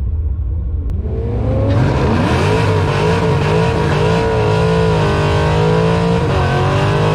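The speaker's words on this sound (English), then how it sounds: "we're going for our first run in Shake and Bake. We're going up against a Fox Body Mustang." A cammed 5.7 Hemi Dodge Challenger R/T drag racing a Fox Body Mustang at the track, with a loud, close engine roar that builds steadily as it accelerates hard through the run, no talking.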